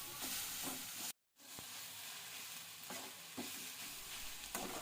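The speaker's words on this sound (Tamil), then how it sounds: "ஒரு கைப்பிடி அளவு கொத்தமல்லியும் சேர்த்து நல்லா வதக்கிக்கோங்க" A handful of coriander leaves sizzle and hiss in a hot pan, with a spatula scraping and stirring every second or so; a brief silence breaks the sizzling early on.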